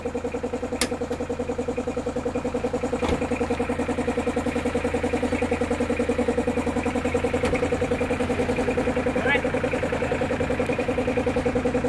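A Mitsubishi Pajero's 4D56 turbo diesel engine idles after an overhaul with a steady, even, rhythmic clatter and hum, close and unchanging throughout, with a few faint clicks and no speech.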